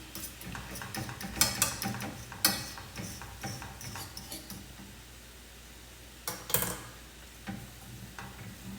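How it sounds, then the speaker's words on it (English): Egg is stirred and scrambled into a shrimp stir fry: a spatula scrapes and taps against the pan in irregular bursts over a low, steady sizzle, close and fairly quiet. "So now I'm going to quickly stir in this egg"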